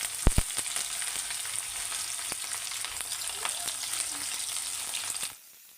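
Onion and ginger-garlic paste frying in hot oil, a bright continuous sizzle with a couple of sharp knocks at the start and light stirring scrapes, cutting off abruptly near the end.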